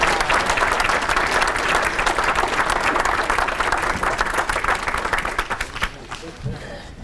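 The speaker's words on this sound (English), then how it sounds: "Give him a round of applause." Loud, dense applause from a banquet audience at a police and firefighters appreciation awards night, sustained for several seconds before thinning out and fading near the end.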